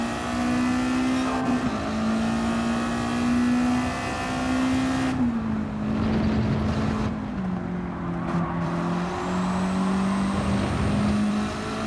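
Race car engines in Gran Turismo 7 hold a loud, sustained whine that rises and dips through gear changes as the cars pass on track, with tire noise underneath.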